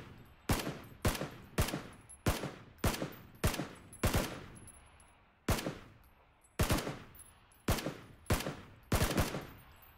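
Gunfire in PlayerUnknown's Battlegrounds: about a dozen loud, sharp shots in a steady rhythm, each with a short echoing tail, with one brief pause midway.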